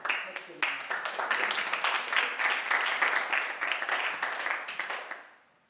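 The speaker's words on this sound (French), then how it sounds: "Génial, bravo, moi je vous applaudis" An audience at a wellness and NLP conference claps in a brisk, dense burst of applause that holds steady for several seconds before fading out.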